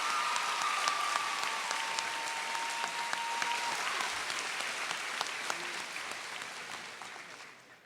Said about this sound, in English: One more round of applause, folks, please.